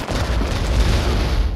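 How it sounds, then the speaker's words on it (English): Sustained rumbling blast of a missile launcher firing and exploding in the PS2 game Oni, loud and dense throughout, a continuous low boom with no pause. "Oh god, you're shooting fucking missile launchers at civilians?"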